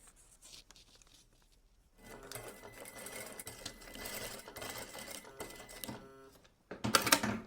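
A sewing machine stitches fabric for the neckline of a bubu dress, starting quietly then running in a steady, moderately loud whirring burst for several seconds, with a sharper louder run near the end.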